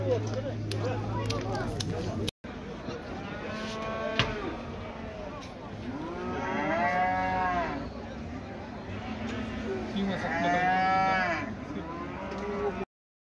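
Cattle at a livestock bazaar low repeatedly in long, drawn-out moos, several calls rising and falling over the noise of the market, with people talking nearby.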